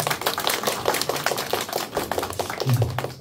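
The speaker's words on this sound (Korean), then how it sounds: "우리 다시 한번 김동영 목사님께 축복의 박수 부탁드립니다." A high-school youth worship congregation in a Korean church claps for the pastor, a steady rhythmic run of hand claps at moderate loudness, fairly close.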